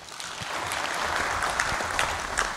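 An audience at a leadership session in Nashik breaks into steady, even applause, a full and fairly loud burst of many hands clapping at once.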